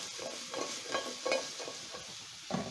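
Small diced breakfast potatoes seasoned with thyme and garlic powder frying in a pan, a soft steady sizzle broken by several spatula stirs and flips, fairly quiet and close.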